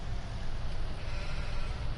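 Sheep in the Farming Simulator 19 video game bleat under a dense, steady wash of farm ambience, their calls blending into the continuous noise rather than standing out clearly.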